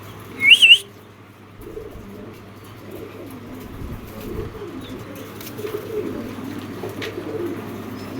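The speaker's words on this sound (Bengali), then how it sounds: "তো এক পেয়ার হচ্ছে ব্লু বার এক পেয়ার হচ্ছে গ্রে বার" Racing pigeons, a pair of blue bars and a pair of grey bars, make soft low cooing that runs steadily through the clip, with a brief sharper chirp near the start.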